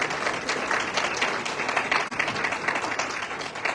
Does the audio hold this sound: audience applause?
yes